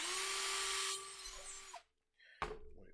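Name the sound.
drilling through a part while assembling a Quake Shaker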